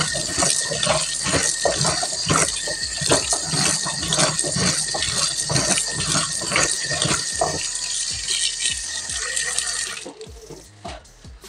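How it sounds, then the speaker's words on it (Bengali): Kochu lati (taro stolons) being washed under a running tap, a steady splashing gush with rinsing and handling noises that carries on for about ten seconds, then cuts off to quieter movement. "এবার কচুরলতিটা ধুয়ে নিচ্ছি।"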